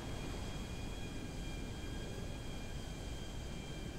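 An airplane in a parkour video game passes with a steady, dense roar of broadband engine noise that holds at an even level for the whole stretch, with no talking.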